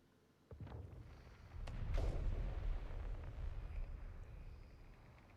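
Artillery fire in the video game Company of Heroes 3: a sudden deep boom followed by a heavier blast and a long rolling rumble that slowly fades.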